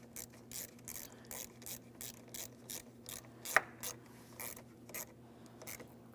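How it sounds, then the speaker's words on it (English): Ratchet wrench clicking in short repeated bursts while tightening a 10mm battery terminal mounting nut on a 2007-2014 Ford Edge, close and fairly quiet, with one sharper metallic tick midway. "continue on with tightening your 10mm mounting nut"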